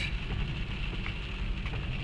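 Rain patters steadily on a car moving through congested traffic, a soft continuous hiss over the low rumble of the road and engine inside the cabin, with no talking.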